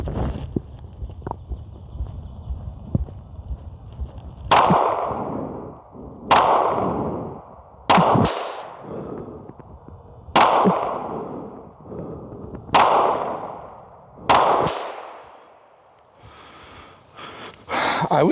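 Six sharp pistol shots from a Cyelee Ghost HDG handgun fired while sighting in its optic, spaced a few seconds apart at close range, each a loud crack with a ringing decay over low background rumble.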